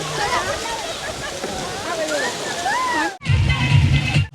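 Water gushes at a water park as tipping buckets dump their load: a steady wash of running water, then a sudden loud heavy splash near the end. Voices and shouts carry over the water throughout.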